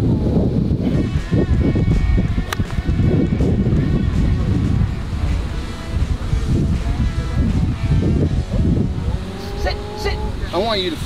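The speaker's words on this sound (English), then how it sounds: "Got a lot of wind." Strong wind buffets the microphone on an outdoor golf course, a loud continuous low rumble that fills the whole stretch, with people talking over it.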